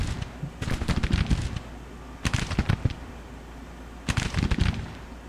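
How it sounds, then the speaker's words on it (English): Civil War artillery and musket volleys in Grand Tactician: The Civil War, three loud clustered bursts of rapid crackling shots about two seconds apart, each separated by quieter gaps. "there goes the artillery"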